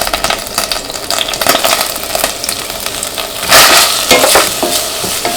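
Onions, garlic and ginger frying in hot oil in a pan for chilli fried chicken, a steady busy sizzle with stirring scrapes, swelling louder near the middle as the ingredients are turned.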